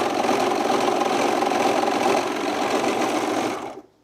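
A serger overlocks a seam on a pair of men's jeans, running as a steady, loud, dense mechanical whir for about three and a half seconds before stopping abruptly.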